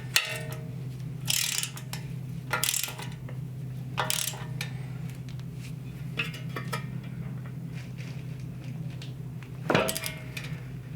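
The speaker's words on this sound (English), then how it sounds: "we're going to tighten these down to 30 foot-pounds" Metallic ratcheting and clanking from tightening ball joint nuts on a Jeep CJ7 Dana 30 front axle, in a few sharp bursts over a steady low shop hum, fairly close.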